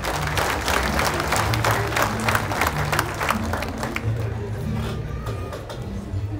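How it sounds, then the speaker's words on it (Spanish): Warm applause from an audience at a civic insignia ceremony, with many hands clapping briskly at first and then gradually thinning and fading, alongside faint background voices. "María Fajimás con fuertes y calurosos aplausos"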